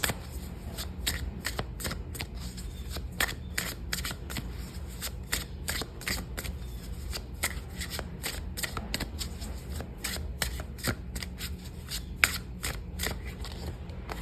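Oracle deck cards being shuffled by hand, a long run of close, crisp riffling flutters and taps in quick irregular rhythm.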